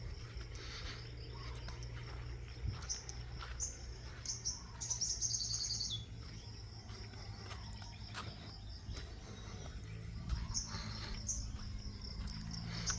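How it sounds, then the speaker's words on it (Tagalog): Several birds chirp and trill in the distance over a constant buzz of insects, with a low hum underneath throughout. "daming ibon kumakanta"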